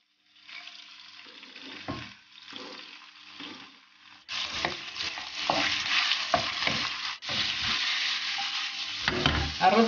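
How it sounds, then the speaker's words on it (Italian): Liver pieces frying in hot oil in a non-stick pan, a steady close sizzle that jumps louder partway through, broken by brief stirring scrapes. "Scaldiamo una padella antiaderente con dell'olio. Mettiamo il fegato."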